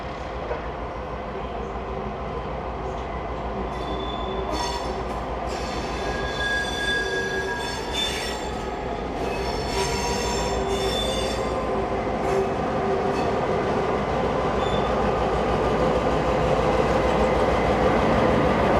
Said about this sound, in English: X54 is now seen shunting to the front of its train